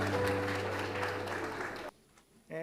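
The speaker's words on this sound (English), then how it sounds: "Thank you for the warm applause" Warm applause fills a hall at a business forum as a construction company president is welcomed, steady clapping with a voice over it, then cutting off abruptly before speech resumes.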